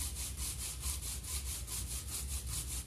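80 grit sandpaper rubbed by hand over a painted coffee table to distress the paint, fast, even back-and-forth rasping strokes, close and steady with no talk.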